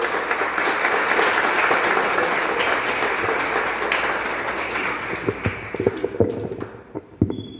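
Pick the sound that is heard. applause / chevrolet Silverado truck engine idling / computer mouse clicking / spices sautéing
applause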